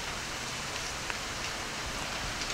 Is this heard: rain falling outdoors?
yes